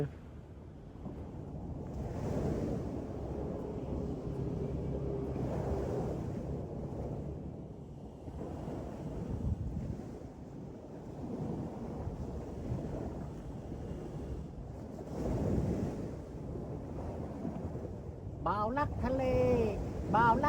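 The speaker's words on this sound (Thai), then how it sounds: "ทะเล" Sea at the Bang Saray fishing pier in Sattahip, Chonburi, heard as a continuous surging wash of surf under heavy wind buffeting on the microphone, with a voice speaking over it.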